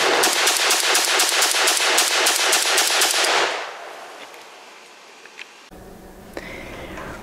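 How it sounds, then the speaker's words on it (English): A CETME Model L 5.56 rifle fires a long run of about a dozen rapid, evenly spaced loud shots, then stops abruptly, leaving quiet background with a few faint clicks and handling noises. "CETME Model L, last mag of the day."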